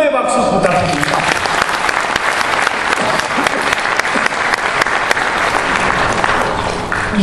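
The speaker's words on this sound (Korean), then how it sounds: "여러분 격려의 박수 부탁드립니다." Dense, loud applause from a crowded audience at a book-launch event fills the room, continuous clapping that starts right after a speaking voice and carries on evenly.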